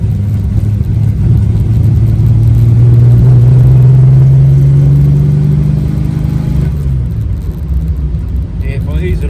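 A Holden Torana engine revs as the car pulls away for a drive, loud and close, with a rising then falling engine note over several seconds before easing off. The carburettor may be running lean.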